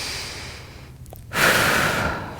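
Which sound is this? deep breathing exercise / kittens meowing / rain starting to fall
deep breathing exercise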